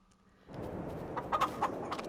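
Several chickens cluck and squawk in short bursts at a chicken coop in Farming Simulator 22, over a steady busy background, fairly close and moderately loud.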